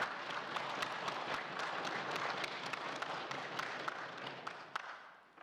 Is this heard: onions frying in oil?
no